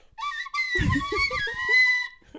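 A shrill, breathy tin whistle plays a short sustained phrase, with low rumbling noise underneath in the middle section.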